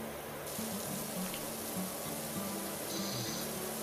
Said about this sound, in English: There just ain't nothing better than hearing that splashing sound of the water coming off the house.